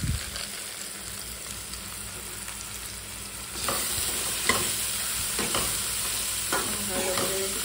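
Spice paste with ground cumin is stir-fried in a pan, giving a soft sizzle that grows louder midway, with repeated scraping stirs and clinks up close.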